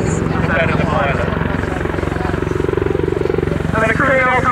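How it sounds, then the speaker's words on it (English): An Apache attack helicopter performs agile manoeuvres at the Dunsfold Aerodrome Wings and Wheels air show, its loud, steady rotor chop and turbine roar filling the air while a commentator talks over it. "They're showing you the Apache is not just one of the most powerful attack helicopters in the world, but agile too."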